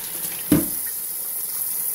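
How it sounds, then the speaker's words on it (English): Tap water runs steadily throughout while a honing stone is lapped flat, a constant broadband hiss with one brief louder splash or knock near the start. "And I always do this with running water."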